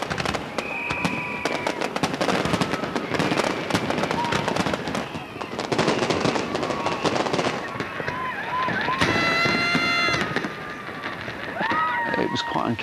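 Dense crackling and popping bursts of a New Year's Eve 1999 millennium fireworks display over a river go off continuously, with whistling rising tones and a voice speaking over the din.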